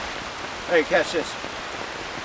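Rain falling outdoors, a steady soft hiss of drops throughout while a voice speaks briefly over it.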